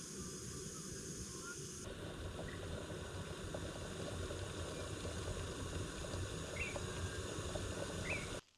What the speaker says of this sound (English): Kettle's boiled.